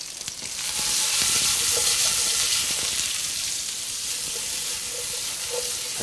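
Osso buco ingredients sizzle in a pan as excess water cooks off, a continuous bright frying hiss with steamy crackle and occasional faint stirring scrapes, steady and close for several seconds.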